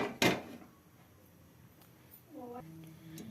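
A pressure cooker is set down on a gas stove in a home kitchen: one sharp metallic clunk near the start, then quiet, then a short tonal scrape or clatter at the end.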